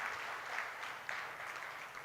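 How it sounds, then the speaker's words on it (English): Applause at an ESG roadshow event in Gurgaon, a steady wash of many hands clapping at moderate distance, fairly faint and even throughout with no voices on top. "Can we have a big applause for them?"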